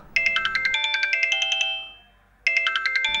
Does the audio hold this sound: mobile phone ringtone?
yes